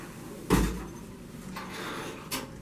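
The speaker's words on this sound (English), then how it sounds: "She then closes the door." An instrument washer's door swings shut with one solid thud, then a couple of softer clunks follow over a steady low room hum.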